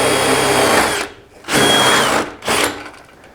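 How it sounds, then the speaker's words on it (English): A power drill bores with a self-feeding auger bit with a spiral tip while a junction box is wired, three loud close bursts of whirring and grinding separated by brief pauses, with no talk. "Jefferson Electric generally prefers a self-feeding auger bit, which will have a spiral tip on the end."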